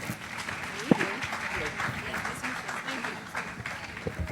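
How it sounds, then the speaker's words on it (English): Audience at a church health seminar clapping for panelists, a moderate wash of applause mixed with voices and a sharp knock near the start. "Let's put our hands together, guys."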